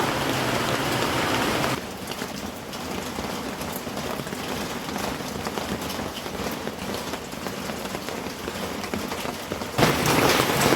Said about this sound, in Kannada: ಬಹಳ ಮಳೆ ಬರ್ತಾ ಉಂಟು